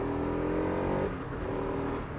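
A Bajaj Pulsar RS200 motorcycle on a morning ride revs sharply on a light throttle blip, a loud close engine howl that drops back to a rougher idle burble halfway through.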